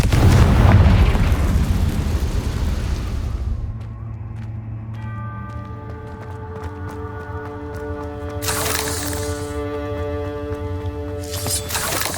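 Confringo blasting curse in the video game Hogwarts Legacy, one loud booming explosion that rumbles and fades, followed by lingering ringing musical tones and a couple of later whooshing bursts.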